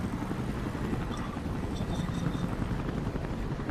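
Helicopter in the video game Battlefield Play4Free, a dense, steady rotor and engine rumble filling the whole stretch at moderate level, with a few faint higher tones drifting over it and no break in the drone.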